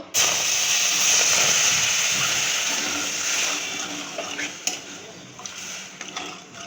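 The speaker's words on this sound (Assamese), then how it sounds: "ইয়াত পানীও লাগিব ইয়াত পানী দি দিছোঁ" Water is poured into sugar in a pan to make tanghulu syrup, giving a steady splashing hiss that is strongest at first and then thins out into scattered drips and clatter.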